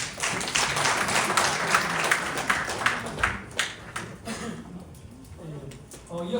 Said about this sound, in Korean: 다시 한번 뜨거운 박수 한번 부탁드립니다.